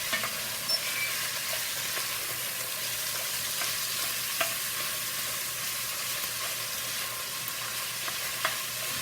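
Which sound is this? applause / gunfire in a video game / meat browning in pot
meat browning in pot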